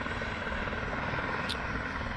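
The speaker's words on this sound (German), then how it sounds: "Und die Bundespolizei ist auch hier mit ihren Hubschraubern." A federal police helicopter drones at a distance at an airfield, a steady low rotor and engine roar holding evenly throughout, with a brief high click partway through.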